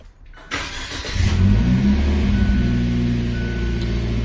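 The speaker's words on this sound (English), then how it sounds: "we want to go ahead and start the engine just to make sure there's no check engine lights" A Fiat 1.4-litre turbo engine cranks briefly and catches, then settles into a steady, smooth idle with a low, even hum close to the microphone.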